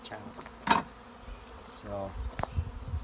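Bees buzzing as they are dumped into a top bar hive, a low droning hum with scattered bursts and bumps of handling, fairly faint, with a brief spoken word near the start.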